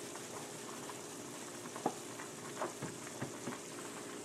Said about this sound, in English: And you just let that flour cook.